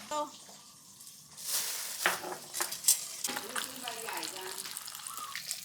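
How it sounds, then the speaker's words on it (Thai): Bean sprouts are stir-fried in a pan with a burst of sizzling hiss, followed by repeated scraping and clattering of a utensil against the pan. Someone talks intermittently over the close, moderately loud cooking. "ถั่วงอกอันนี้ไม่ต้องแช่น้ำนะเอาไปผัดได้เลย"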